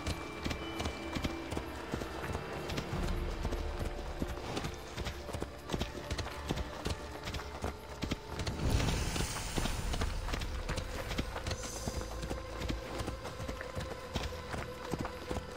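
Rapid hoofbeats of a galloping horse in Assassin's Creed Odyssey pound steadily throughout, mixed with busy game background sounds and a brief louder burst midway.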